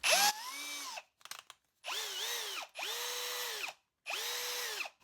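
A drill fitted with a 6 mm HSS metal-cutting bit whirs up in four separate bursts, each spinning at a steady high pitch for about a second before stopping, with brief mechanical clicks between the first and second runs.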